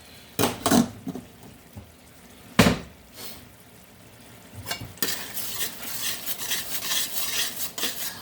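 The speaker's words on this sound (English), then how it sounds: "I go ahead and just turn them off, put a lid on them." A lid clatters onto a cooking pot on a stove in two sharp metallic knocks, followed by a soft sizzle from the pot.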